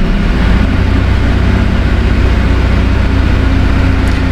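A car engine hums loudly at close range with a steady low drone and a slight rise as gas is applied, and it stays fairly even throughout.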